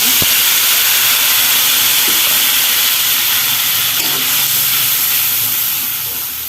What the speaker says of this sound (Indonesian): Nah, ini kita tumis bumbunya.